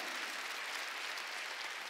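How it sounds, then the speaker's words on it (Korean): A church congregation claps together during a Sunday worship service, with steady, evenly sustained applause that sounds rather distant and soft and continues without a break. "박수 치라 이거야"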